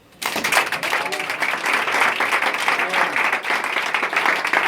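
A church congregation breaks into loud, sustained applause that fills the room and carries steadily to the end, with cheering voices mixed into the clapping.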